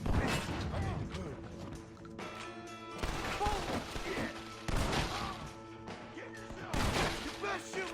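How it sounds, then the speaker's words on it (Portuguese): Shotgun blasts in Red Dead Redemption, several loud booming shots at irregular intervals with mechanical clacks of reloading in between and game sounds underneath. "Eu não consigo acertar um tiro com espingarda."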